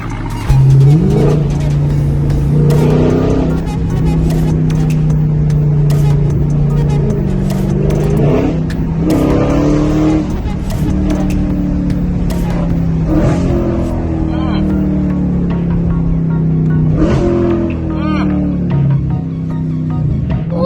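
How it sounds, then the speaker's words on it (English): A straight-piped widebody Dodge Challenger Scat Pack idles with a loud, deep, choppy exhaust burble and is blipped through several sharp revs that rise and fall throughout, close up, with a person talking over it at times. "the idle is way louder than what it was with my muffler delete"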